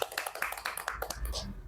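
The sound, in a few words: hand clapping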